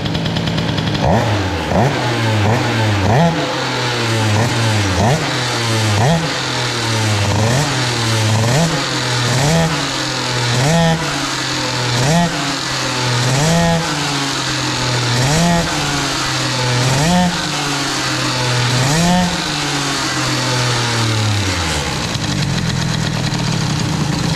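A scooter engine fitted with an Airsal 77 XT kit and boosted intake idles low and loud nearby, a steady rhythmic two-stroke putter with a slight wavering pulse before it dies away near the end.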